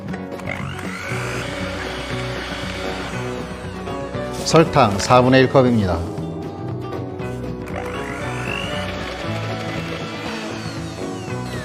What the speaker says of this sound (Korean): 자, 핸드믹서로 휘핑 시작합니다.